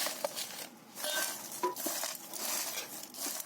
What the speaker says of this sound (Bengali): আর এই সব ভেজে রাখা জিনিসগুলো এর মধ্যে মিশিয়ে দিচ্ছি একসাথে।